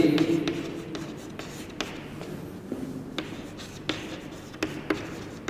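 Chalk tapping and scratching on a classroom board as a physics teacher writes out a definition, a series of sharp clicks and scrapes spread across several seconds, with quiet room noise between strokes.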